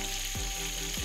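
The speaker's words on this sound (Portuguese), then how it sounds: "Fritando um peixinho aqui para poder fazer um almoço." Fish frying in a pan at a riverside camp, a steady broadband sizzle with no pauses and two brief low thumps, close and fairly loud, no voices.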